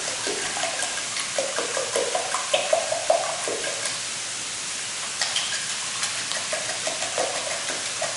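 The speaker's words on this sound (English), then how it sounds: "Whisk this together." Ingredients being whisked together in a bowl, a continuous close clatter of quick, irregular scrapes and taps against the bowl, with no talking.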